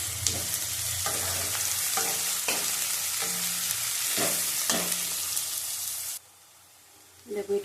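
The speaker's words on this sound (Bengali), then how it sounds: "পেঁয়াজটা লাল লাল করে ভাজা হয়ে গেছে" Four large onions fry in oil in a pan until reddish, with a spatula scraping in a steady rhythm over the sizzle. The stirring stops near the end, leaving quiet before a brief clatter.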